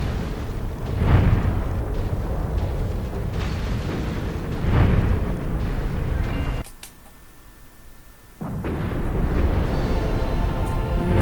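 Heavy booming explosions in the video game Pirates: The Legend of Black Kat roll out in loud rumbling bursts, pause briefly into quieter sound, then resume with dense continuous rumbling.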